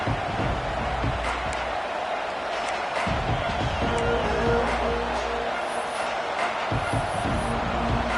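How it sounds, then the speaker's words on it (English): Stadium crowd roaring steadily throughout at a Texas versus Texas A&M college football game, a dense continuous wash of cheering with bursts swelling on top, no clear voices standing out. "This crowd ready to make its presence known."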